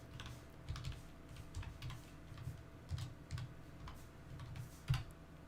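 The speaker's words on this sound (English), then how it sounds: "I'm just typing some stuff on my other computer real quick" Typing on a computer keyboard, with irregular bursts of key clicks and a few heavier strokes over a steady low hum, fairly quiet and close, with no voices.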